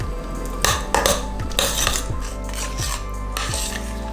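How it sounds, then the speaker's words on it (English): A spoon scrapes and clinks rhythmically against a pot while butter is stirred into hot custard, close and clear, with repeated sharp metallic taps. "Final thing with my custard is to add a tablespoon of unsalted butter. I'm just going to stir that in."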